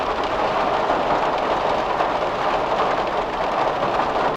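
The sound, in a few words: rain hitting a van's metal exterior, heard from outside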